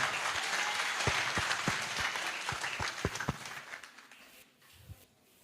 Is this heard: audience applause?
yes